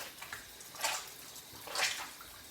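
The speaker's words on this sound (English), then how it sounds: "Put some water in it." Water poured into over-activated slime makes two soft, close splashing gushes about a second apart, the second slightly louder, in a quiet room.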